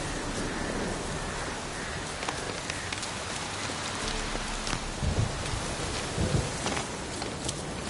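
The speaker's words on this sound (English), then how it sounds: "The storm, damn it." Heavy storm rain in The Witcher 3 video game pours as a dense, constant hiss of drops close by, with a few low rumbles mixed in and no talk.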